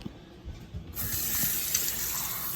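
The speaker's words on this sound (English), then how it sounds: "We're gonna get some water." Water from a tap starts abruptly and runs steadily into a container for an iced pumpkin spice latte, a close, even rushing flow.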